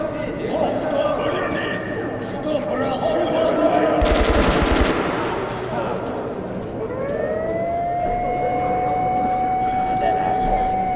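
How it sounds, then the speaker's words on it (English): Gunfire in the video game Metro Last Light Redux, with a dense burst of rapid automatic shots near the middle. The shots sit in a loud, busy game soundscape with a rising whine and constant speech throughout. "Oh, there's that gun again."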